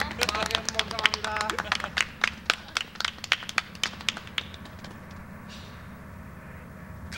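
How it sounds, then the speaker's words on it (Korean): People at a gathering clap in a quick, uneven burst of sharp handclaps that thins out into a few scattered claps and then fades, with voices in the room underneath. "박수."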